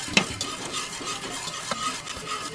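Sauce heating in a pan toward a simmer while a utensil stirs it, soft scraping strokes and light bubbling sizzle, close and fairly quiet, with a sharper clink of metal near the start.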